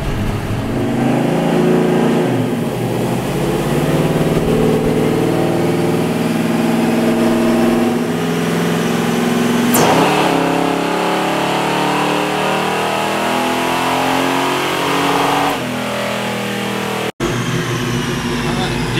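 Supercharged donk's engine roaring and revving at a street race, a loud continuous drone with rising and falling pitch over about nineteen seconds, crowd noise and shouting mixed underneath.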